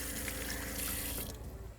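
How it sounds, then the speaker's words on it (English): Steady rush of water driven by a 12-volt pump on a DIY overland Ford F350 rig, running continuously and close, easing slightly toward the end. "They run right here with a 12-volt pump."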